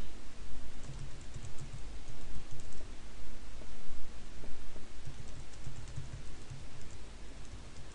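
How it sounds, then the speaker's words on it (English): A message is typed on a computer keyboard for email marketing software, producing a continuous patter of clicks under a loud, hissy background with no speech. "So we'll just type a message"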